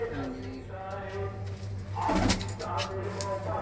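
Low, rolling pigeon coos repeat close by under a constant background hum, with a brief rustle midway.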